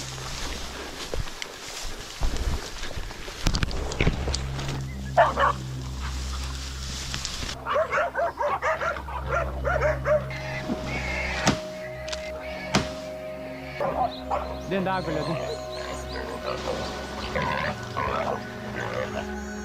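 Hunting dogs in the woods during a wild hog hunt bark and yip in bursts, some close and some farther off, over outdoor noise and background music.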